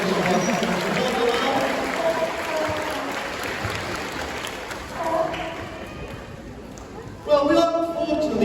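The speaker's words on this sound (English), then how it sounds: "But give Arthur a big round of applause" Broad, steady applause from a crowd at a sea lion show at Knowsley Safari fills most of the stretch, with a voice speaking over it and a louder burst near the end.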